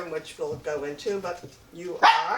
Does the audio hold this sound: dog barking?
yes